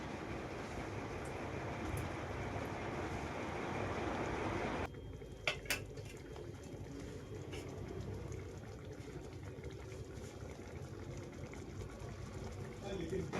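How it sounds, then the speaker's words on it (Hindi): Dense bubbling and sizzling from a pot of Sindhi kadhi curry fills the first few seconds, then gives way to quieter simmering with a few light metallic clinks; speech is mixed in. "अब हमें इसे एक उबाल आने देना चाहिए जब तक ये अच्छे से उबले।"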